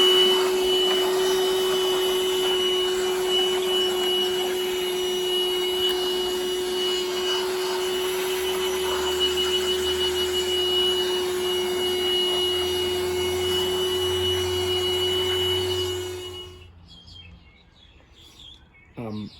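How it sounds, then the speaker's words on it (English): An air blower blowing dust out of a Honda EU2200i generator, a loud steady whooshing hiss with a constant whine that runs nearly throughout and then cuts off abruptly near the end. "I'm going to blow this out with my air blower and get some of that dust out of there"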